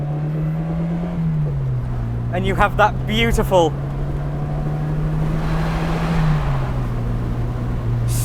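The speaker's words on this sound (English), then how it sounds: "scream from that Lampredi engine behind you" An Italian mid-engine sports car's Lampredi engine drones steadily from inside the cabin, its pitch dipping slightly twice, while someone speaks briefly over it.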